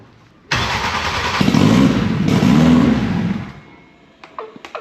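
A Honda Civic built to over 1400hp fires up on the first turn. The engine catches with a sudden loud burst, holds a rough, busy idle for a few seconds, then drops away, leaving faint clicks at the close.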